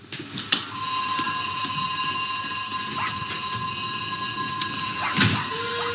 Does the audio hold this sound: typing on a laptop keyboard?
no